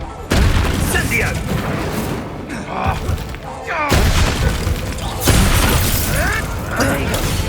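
Spell explosions from Bombarda and Confringo in the Hogwarts Legacy video game, several loud booming blasts and thuds going off in quick succession, mixed with shouted in-game voices.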